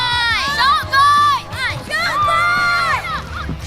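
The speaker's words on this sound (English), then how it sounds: "Massive cheer for the shark bites." A crowd of young competitors at a FIRST LEGO League final cheers and whoops for a team, loud bursts of shouting that swell and fall over a few seconds, with children's voices dominating.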